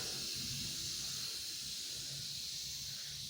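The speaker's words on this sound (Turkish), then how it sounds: "Sobamız yanıyor." A wood-burning stove burns hard indoors in snowy weather, giving a steady, close, unbroken hissing roar with no pauses.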